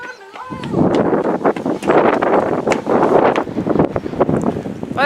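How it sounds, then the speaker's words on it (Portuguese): Strong wind roars steadily across open countryside near orange trees, a loud, continuous broadband rush with gusty swells and rustling that lasts throughout, with a faint voice briefly audible. "mas o vento tá muito forte"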